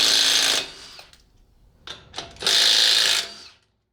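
A power tool spinning off the front wheel fasteners of a Honda gives two close, loud whirring bursts with a few short blips between them.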